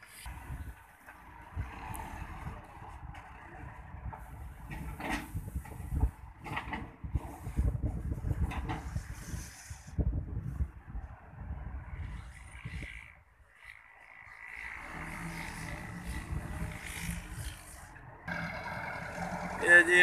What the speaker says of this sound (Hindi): ये जी ट्रैक्टर MF 375 ट्रैक्टर है, इसकी आपको परफॉर्मेंस चेक करवाते हैं